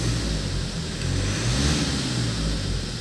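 A Tata Hexa car engine, recently repaired for a wiring short circuit and a starting problem, revs steadily and loudly at close range. The roar is continuous with a slight rise in the middle and no talk.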